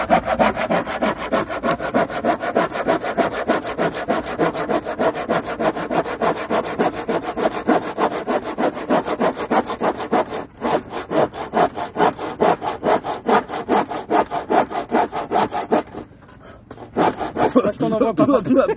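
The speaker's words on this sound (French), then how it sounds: "on suit la ligne en fait avec le fil de la scie" A hand saw cuts through wood in quick, regular back-and-forth strokes, loud and close, with two brief pauses before the sawing resumes.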